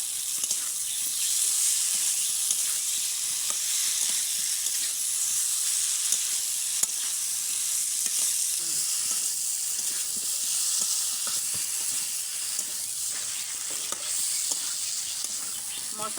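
Rohu and bata fish sauté with potato, cauliflower and spices in a pan, giving a steady, close hiss of frying broken by soft stirring scrapes throughout, with no talk.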